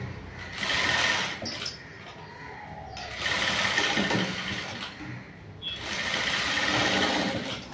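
A sewing machine stitches a princess cut blouse in three close bursts of rapid mechanical chatter, each lasting one to two seconds, separated by brief pauses, with no talking.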